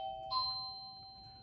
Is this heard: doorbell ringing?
yes